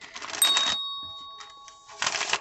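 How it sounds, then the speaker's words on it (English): A deck of tarot cards is shuffled in two quick riffling bursts separated by a quieter pause with soft card taps, close up, with a faint chime tone lingering underneath. "I'm going to give it a shuffle so they go back in."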